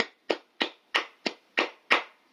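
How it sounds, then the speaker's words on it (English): One person's hand claps, seven sharp separate slaps at an even, unhurried pace, close and alone with no talk. "Self round of applause"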